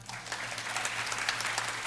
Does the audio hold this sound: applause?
yes